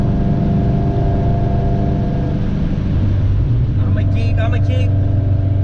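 Honda Civic with a B20 engine swap pulling hard from 0 to 60, a loud steady engine drone rising in pitch throughout, with a brief voice cutting in near the end.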